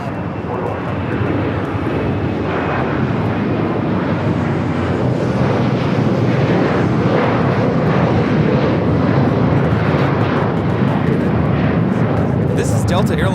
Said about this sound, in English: This is Delta Airlines 909 taking off to Indianapolis on the 737-900ER